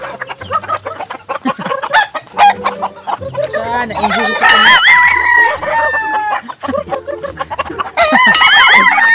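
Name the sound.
pet chickens clucking and crowing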